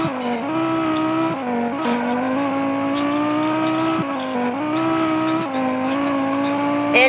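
Video game car engine droning continuously at close range, its pitch climbing and dropping through repeated gear shifts, loud and alone.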